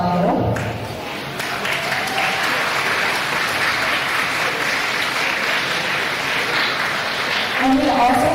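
Applause from a gala audience honoring the 2023 Gala Committee, a steady, full clapping from a large crowd filling the room and carrying on throughout, loud and close.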